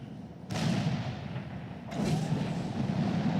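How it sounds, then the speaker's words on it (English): A missile launcher unit firing in a strategy video game, two muffled booming launches about a second and a half apart over a low rumbling background. "It shoots things with missiles."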